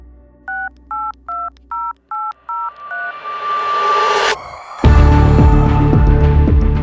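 A quick run of eight dial-pad tones, evenly spaced, followed by a rising, wavering electronic whine that ends in a sudden loud burst of noise.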